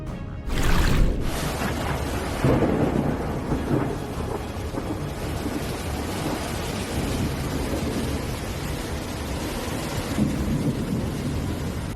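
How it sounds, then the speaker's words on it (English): A single loud thunder crack bursts out early during a storm, then rumbles on with steady rain and wind noise filling the rest of the stretch. "It was the only crack of thunder to shatter the stillness of the sky."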